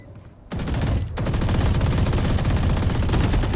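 Rapid automatic gunfire in the Valorant video game, a Vandal rifle among the weapons, loud dense rattling bursts that begin after a brief quiet lead-in and continue almost without pause to the end.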